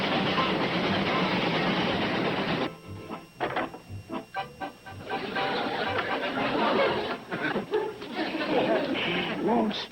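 A passenger train rumbles steadily along the rails with a broad, continuous roar and some clacking, while people chatter and talk over it in a 1960s sitcom scene.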